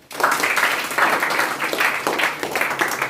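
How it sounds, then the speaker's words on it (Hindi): Students in a classroom clapping for a classmate, a burst of rhythmic hand claps starting abruptly and continuing steadily for a few seconds, fairly close. "ताली बजाइए"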